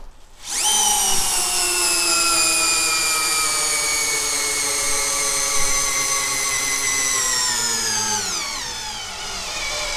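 Bosch GSR 10.8 V-EC cordless drill, on first speed in drilling mode, drives a 7 mm screw into wood: a loud, continuous motor whine spins up sharply, holds, then drops in pitch as it strains near the end.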